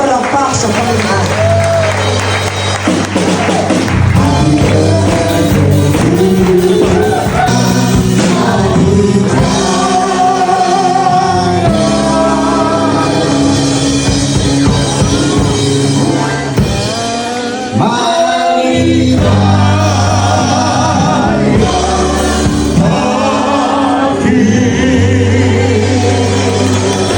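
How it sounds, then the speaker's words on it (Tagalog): Congregation at a church revival summit applauding and cheering, a dense, sustained roar of clapping mixed with loud music and amplified voices, filling the hall for almost half a minute. "Malakas sa palakpak sa Panginoon."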